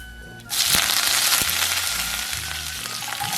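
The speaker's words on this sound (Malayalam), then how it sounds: "അതിന് വേണ്ടിയിട്ട് വെളിച്ചെണ്ണ ഒഴിച്ചിട്ടുണ്ട്. കടുക് പൊട്ടിക്കുക." Mustard seeds spluttering in hot coconut oil for a beetroot stir-fry: a sudden hiss bursts in and settles into a steady, loud sizzle dotted with sharp pops and crackles, with no talking.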